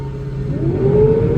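An engine revs up with a rising whine as a fan roars louder on a solar panel cleaning machine, close and loud, a steady mechanical drone throughout.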